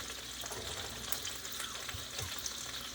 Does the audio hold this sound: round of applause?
no